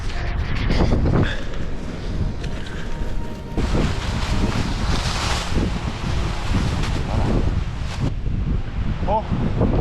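Fierce storm wind in a forest pounds the microphone in heavy, irregular gusts with rushing, roaring surges, loud and close, while a voice is heard briefly under the noise.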